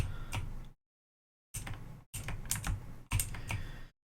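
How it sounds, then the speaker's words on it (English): Loud mechanical computer keyboard typed in quick bursts of clacking keystrokes, with a pause of near silence between the first burst and three closely spaced longer runs, no voices. "Although I do have a mechanical keyboard, it's rather loud."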